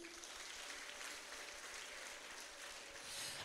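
Steady, dense applause from a crowd fills the whole stretch, a continuous wash of clapping that swells slightly near the end with no voices standing out.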